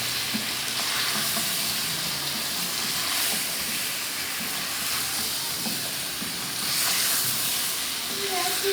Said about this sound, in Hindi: थोड़ा सा हम इसको फिर भूनेंगे इन मसालों के साथ